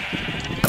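A single loud, close sheep bleat from Minecraft, a brief wavering call followed by a sharp knock at the end, with other game sounds quietly underneath.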